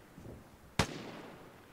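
A single sharp gunshot cracks across a rail bridge in the video game Vigor, loud and close with a brief ringing decay, surrounded by quiet ambience.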